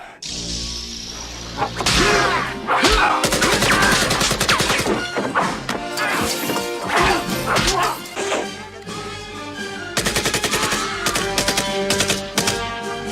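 Video game gunfire rings out in dense, rapid bursts of shots over a loud music or game soundtrack for most of the stretch, with a voice also present.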